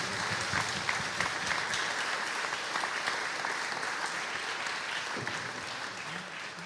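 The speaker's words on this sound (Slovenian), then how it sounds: "da jih lepo pozdravite z enim aplavzom" Soft, even applause from an audience at a Slovenian state ceremony honouring the gold-medal national basketball team, continuous and somewhat distant, with no talk above it.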